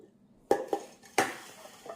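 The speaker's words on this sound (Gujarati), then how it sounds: "મિક્સ કરી અને આમ સરખું કરી નાખશું" Bijora citron pickle being mixed with salt, a few sharp clatters of a spoon against a metal vessel separated by softer scraping, close by with no talk.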